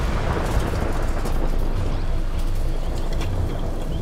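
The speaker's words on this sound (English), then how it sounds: "Massive blast." A controlled explosive blast set off about a kilometre away comes through as a loud, sustained low rumble and broadband roar that fills the whole stretch without a sharp onset.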